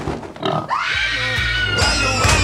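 A pig grunts and squeals loudly and close by in a sustained, harsh, strained call lasting a couple of seconds, with brief human voices in the background.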